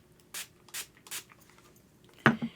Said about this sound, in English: I sprayed my brush using my setting spray.